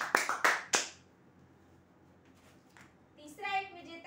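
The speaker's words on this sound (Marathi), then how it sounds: "जोरदार टाळ्या होत्या त्यांच्यासाठी." A quick burst of several claps greets lottery draw winners, fading within a second, followed by a short stretch of near quiet and then a voice speaking.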